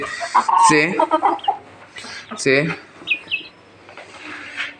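High-pitched cheeping and clucking from young naked neck chicks close by, several bursts with short gaps, a few thin chirps near the end.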